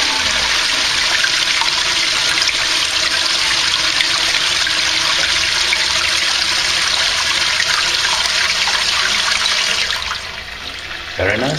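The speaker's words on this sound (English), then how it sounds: "Very nice flush." A toilet flush in a stylish restroom with wooden cabins rushes loudly and steadily for about ten seconds, then drops into a quieter trickle as the water refills.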